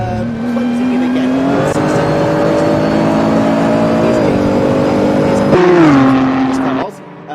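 Nissan GT-R race cars racing at Yas Marina, engines droning loudly and steadily with a rising pitch and a shift near the end, a commentator talking over the din.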